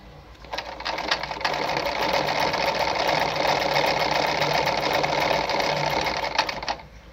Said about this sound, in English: I'm sewing the downside of the buttonhole